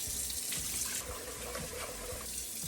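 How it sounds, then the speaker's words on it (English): Tap water runs steadily into a sink while rice is rinsed, a close, continuous splashing stream with no voices over it. "We're gonna rinse it until it runs clear."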